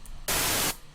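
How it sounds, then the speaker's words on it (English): Unpitched synthesized white noise from a deep house production setup bursts in as a single loud, flat hiss lasting about half a second, then cuts off sharply, leaving quiet room tone on either side. "I can pick any note, doesn't matter, because it's white noise, unpitched."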